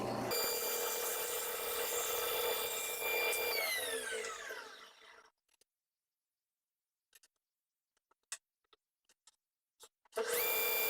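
A hardwood piece sanded on a shop-built vertical belt sander: loud steady whirring motor and abrasive hiss that winds down to silence, then faint clicks before the sander roars back up at the end.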